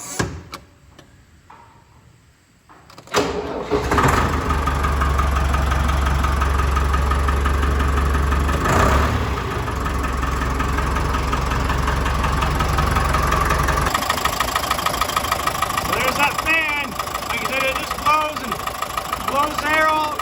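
A Deutz-Allis 7085 air-cooled diesel tractor engine cranks over and settles into a steady, loud idle close by, with a low throbbing rumble and a brief clank partway through, holding a constant pitch to the end.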